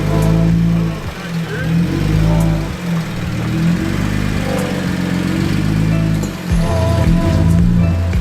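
A Jeep crawls off-road over Moab terrain, its engine rumbling steadily close by with small surges and crunches, while people talk over it.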